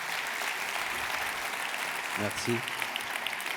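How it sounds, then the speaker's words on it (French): Steady applause from a crowd at a New Year's greetings ceremony, a continuous mass of clapping with a brief spoken word from a man partway through. "on peut l'applaudir"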